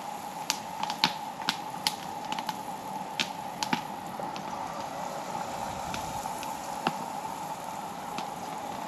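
Chicken balls frying in a pan on a camp stove outdoors in the mountains, a steady background hiss punctuated by irregular sharp pops and spits, fairly close and moderate.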